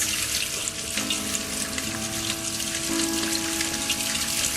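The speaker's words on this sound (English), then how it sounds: "It makes this nice tranquil sound as the water goes from cup to cup down the chain." Water trickles steadily down a 6-foot pure copper rain chain with nine bell-shaped cups, splashing from cup to cup in a continuous close, soft wash with faint ringing tones.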